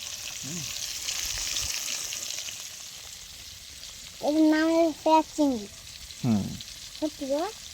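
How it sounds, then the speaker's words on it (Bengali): Shrimp frying in hot oil gives a steady, moderately loud hiss for several seconds before a voice begins talking over the quieter sizzle. "এটা হচ্ছে ফ্রাইড চিংড়ি তো হবে, ভাজা চিংড়ি"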